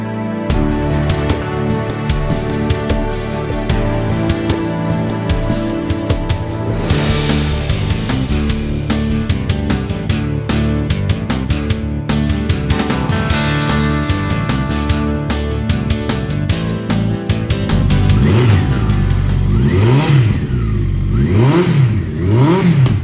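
A 2013 Honda CB1100 ABS, a big old-school muscle motorcycle, runs close by with a steady engine note that then rises and falls through repeated throttle revs, loud and continuous with no voices.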